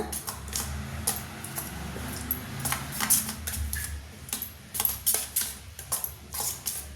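Idli batter being stirred by hand in a bowl for thatte idli, giving a string of irregular utensil clinks and scrapes at close range with no talk.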